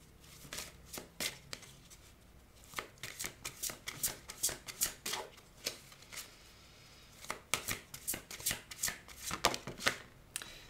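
A deck of oracle cards is shuffled and cut by hand, making a run of crisp riffling flutters and soft slaps in irregular bursts, close and fairly quiet, with short pauses between them.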